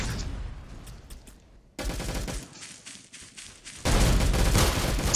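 Rapid automatic gunfire from a weapon in a video game, sustained bursts that drop off briefly and then return louder and denser.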